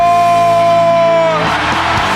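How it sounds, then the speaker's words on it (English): A crowd at a motivational speaking event erupts into loud screaming, yelling and whooping partway through, following a sustained tonal sound, and the noise continues to the end. "scream and make some noise!"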